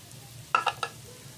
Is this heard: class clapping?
no